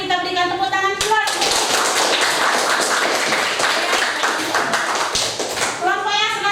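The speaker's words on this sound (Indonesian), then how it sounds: "kita berikan tepuk tangan keluar." Students in a classroom break into loud, dense applause after a group presentation, a burst of many close hands lasting several seconds, with a voice talking just before it begins and again as it fades.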